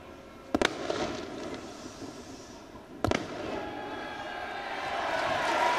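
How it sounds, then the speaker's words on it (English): Fireworks burst at a rugby stadium during a Premiership match, two sharp loud bangs about three seconds apart over a steady crowd roar. "One or two around us telling the fireworks to pipe down."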